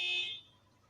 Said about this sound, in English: someone in my area, their alarm went off